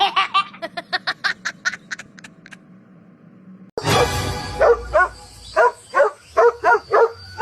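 A cartoon dog in a Filipino animated comedy barks in a quick, rhythmic run of yaps, then after a brief lull keeps barking in regular bursts over a louder, busier background.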